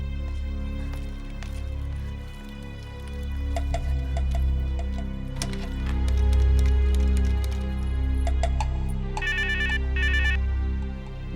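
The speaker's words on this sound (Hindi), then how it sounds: "कर्नल रंजीत सिंह को फोन करो" A phone ringtone rings repeatedly in a steady pattern over a low music bed in a Hindi TV drama, the tones clear and fairly loud with no talk.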